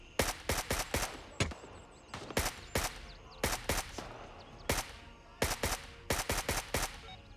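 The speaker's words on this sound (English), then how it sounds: "this AK is ripping, but it's got some kick" An AKMN-style AK rifle fires in the shooter game Grayzone Warfare: repeated sharp bursts of loud gunfire, two to four rounds at a time, spaced in an uneven rhythm with short gaps between.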